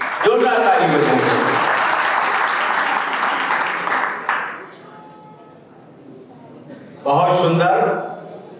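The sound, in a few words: audience applause at an annual function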